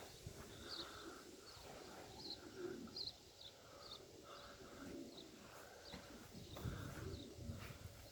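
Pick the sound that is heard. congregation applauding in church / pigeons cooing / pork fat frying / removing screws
pigeons cooing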